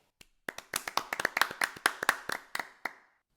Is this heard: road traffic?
no